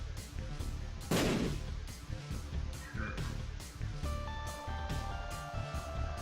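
Bomb explosions in The Binding of Isaac: Afterbirth, one loud broad burst standing out against a busy, constant game soundtrack, with fainter blasts and effects following.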